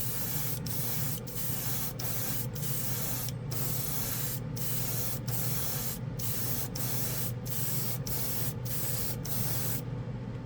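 Airbrush spraying paint onto a plastic model makes a close, continuous hiss with a steady compressor hum underneath and short regular gaps.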